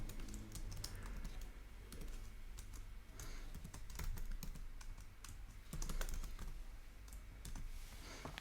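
Someone types login details on a computer keyboard, a steady close run of quick key clicks with a few heavier taps, no voices.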